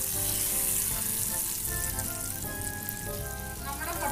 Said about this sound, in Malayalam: ഇട്ടിട്ട് ഇതുപോലെ നന്നായിട്ടൊന്ന് തിരിച്ച് മുറച്ച് വെച്ച് ഫ്രൈ ചെയ്തെടുക്കും